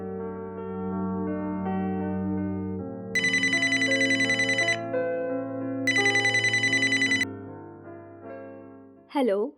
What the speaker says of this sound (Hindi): आरती को फोन करता हूँ।